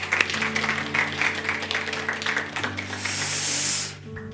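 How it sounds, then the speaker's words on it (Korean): A congregation at a Korean Sunday church service applauds: a steady wash of clapping over sustained musical tones that swells, then cuts off abruptly near the end. "박수 주시기 바랍니다"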